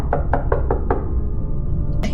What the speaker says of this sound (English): Then there was this loud knock.